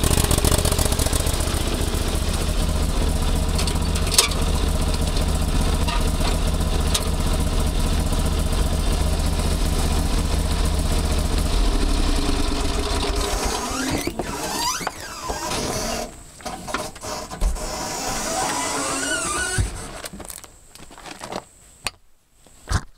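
A motorcycle engine is started and runs after a wreck on a trail ride, a steady mid-pitched engine drone that is loud throughout and then turns rougher and more uneven toward the end, with no talk over it.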